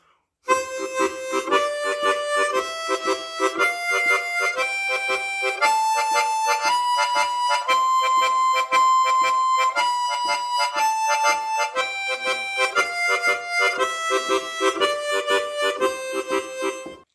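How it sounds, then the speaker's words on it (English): A harmonica plays a bouncy shuffle rhythm with tongue technique, its steady pulsing notes stepping up and then back down the scale, loud and close with no voices. "Or you could play a shuffle rhythm."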